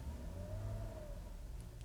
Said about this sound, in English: It's just a real nice sounding engine.